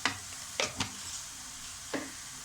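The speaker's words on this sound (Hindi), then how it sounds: "अब ये ज़रा सी प्याज और फ्राई हो जाए तो मैं इसमें कीमा डाल दूँगी।" Onions and cumin fry in a pan with a steady soft sizzle, broken by a few sharp scraping clicks of stirring near the start and again toward the end.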